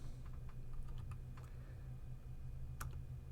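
Soft, quick keystrokes on a computer keyboard tap out a short irregular burst over a steady low hum, fairly quiet and close, with no speech.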